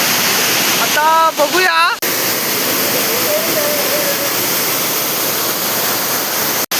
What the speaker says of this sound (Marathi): बघा ह्या धबधब्यावर आम्ही शेवटी आलेलोच आहोत